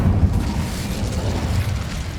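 An Incendio fire spell cast in Hogwarts Legacy, a deep rumbling whoosh of flame bursting out loudly and close, sustained over a couple of seconds with no talk.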